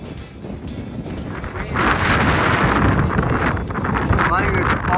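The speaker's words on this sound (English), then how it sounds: "It's very, very windy up here" Strong wind on an exposed mountain ridge buffets the microphone in loud, rumbling gusts that intensify midway and stay rough and constant, with a voice faintly underneath.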